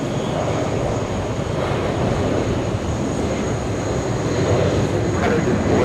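An Airbus A330neo airliner bound for Heathrow rumbles at JFK Airport in a continuous broad engine roar, steady and moderately loud with no break.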